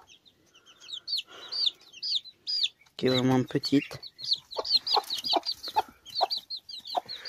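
Hens clucking and squawking in short bursts, with a louder run of clucks midway and a voice speaking briefly.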